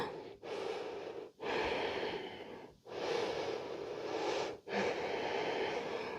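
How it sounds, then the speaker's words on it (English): Slow, deep breathing during a yoga stretch in a hip-opening flow, with four long, airy breaths separated by brief pauses, close and fairly loud. "Continue to breathe."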